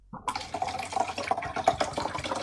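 Water running from a tap, a close, steady splashing flow that starts abruptly and continues with gurgling, dripping texture, with no voices.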